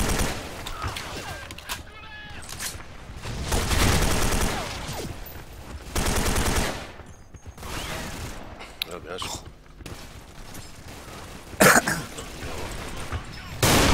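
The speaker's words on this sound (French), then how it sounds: "y'en a qui me tire dessus" Bursts of video game gunfire crackle in short volleys mixed with a player's voice talking excitedly over them, with louder clusters of shots around the middle and a sharp crack near the end.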